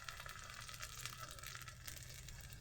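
Small flour dough balls fry in hot oil, giving a steady, quiet crackling sizzle with fine popping bubbles close by, and nobody speaks.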